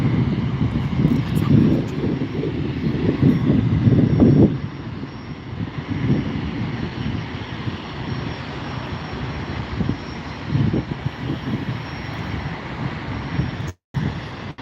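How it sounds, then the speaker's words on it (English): A Southwest airliner taxiing onto the runway at an airport, its jet engines giving a steady, fairly loud roar that swells and eases, with wind buffeting the microphone. "Here's our Southwest Canyon Blue livery going to San Jose del Cabo, getting onto the runway."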